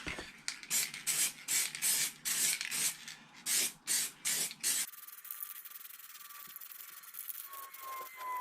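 Lacquer is sprayed onto a motorcycle wheel in a run of short hissing bursts, each a second or less with brief gaps between, loud and close. The spraying stops about halfway through, and a quieter, steady hiss continues after it.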